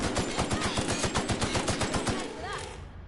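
Rapid automatic gunfire from a heavy weapon in a shooter video game, a dense string of close, loud shots fired in quick rhythm for nearly three seconds before stopping abruptly.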